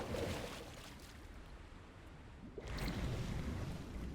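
Waterfall in the Call of the Sea game, a broad steady rush of falling water that dips slightly mid-way and then swells louder again, continuous and close with no talk.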